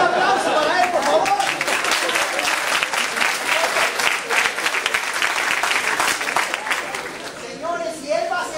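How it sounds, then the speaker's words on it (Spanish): Audience applause at a conference, a dense sustained roar of clapping from a large crowd with some chatter mixed in, holding strong then thinning slightly toward the end. "Un aplauso para él, por favor."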